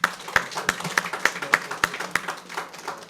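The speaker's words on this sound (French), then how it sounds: "Applaudissez, s'il vous plaît." Applause at a ceremony honoring a national U14 championship-winning team, with sharp, fairly rhythmic claps at a steady pace, a smaller group heard at moderate distance over about three seconds.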